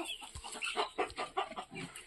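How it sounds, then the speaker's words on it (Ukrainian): Decorative Cochin hens cluck close by in a coop, giving a quick run of soft, irregular clucks and short calls that are quiet overall. "Це декоративний кохін-хін."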